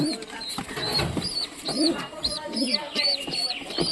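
Repeated soft cooing of a pigeon feeding its chicks, close by and rhythmic, with faint rustling and small chick chirps mixed in.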